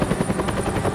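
A helicopter in the video game Batman Telltale Series gives off a steady, moderately loud rotor drone with a faint pulsing chop, running unbroken and with no talk over it.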